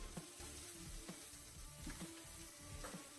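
Onions sautéing in a pan for a restaurant-style potato masala, giving a soft, steady sizzle with faint stirring clicks now and then, quiet and close.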